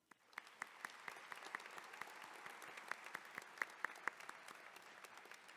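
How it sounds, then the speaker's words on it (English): Applause from the audience at a nurse pinning ceremony, steady clapping from a crowd with a few sharper claps standing out, heard faint and distant throughout. "Let's give Karen a round of applause."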